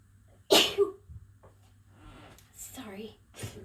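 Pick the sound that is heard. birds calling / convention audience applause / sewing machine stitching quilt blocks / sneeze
sneeze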